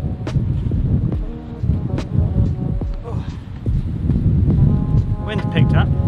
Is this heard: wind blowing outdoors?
yes